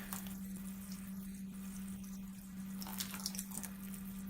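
Water pours and trickles softly and continuously onto seedling grow mix, with a steady low hum beneath and light splashing, no voices.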